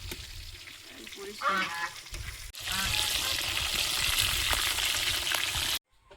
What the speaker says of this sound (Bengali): বাকি চিকেনগুলোও ভাজা হয়েছে